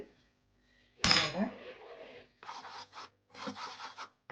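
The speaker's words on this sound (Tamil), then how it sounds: "கை விடாமல் கிண்டி கொண்டு இருக்கோம்" A spoon scrapes and rubs through thick cashew nut halwa cooking with ghee in a pan over low heat, in several short, close bursts of gritty stirring.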